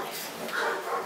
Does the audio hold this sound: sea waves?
no